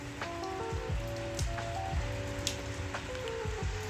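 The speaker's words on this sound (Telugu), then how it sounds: "వర్షం పడుతుంది బయట" Rain falls steadily outside in Maredumilli on an early morning, a dense, even patter close by, with some brief tonal sounds running through it.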